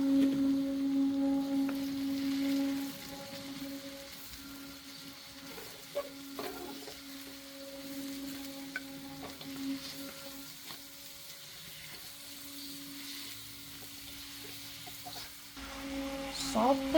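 Garlic, onion and pork sauté in a pan with a soft steady sizzle and occasional stirring scrapes, while a rooster crows from outside and background noise continues throughout.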